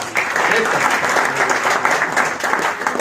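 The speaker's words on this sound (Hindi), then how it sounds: "जोरदार तालियां सर के लिए।" Audience applause during a business plan presentation, a dense, steady burst of clapping from a seated crowd, fairly loud and even for about three seconds.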